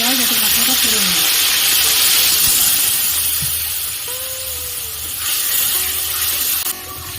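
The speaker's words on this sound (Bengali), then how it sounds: "দেবো সামান্য পরিমাণ জল, যাতে মশলাটা ফুটে নেবে" Ground spice paste with a little water added to hot oil for a pointed gourd and milk curry, giving a loud, steady hissing sizzle throughout, with a voice speaking over it.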